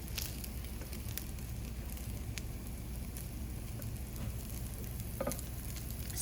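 Salmon patties frying in a pan make a steady, soft sizzle and crackle throughout, fairly quiet and close, with no talking.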